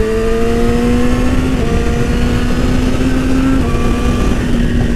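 A 2017 Yamaha R6 motorcycle with a GYTR quickshifter, its engine droning loud and steady under acceleration, with the pitch stepping briefly as it shifts up through the gears.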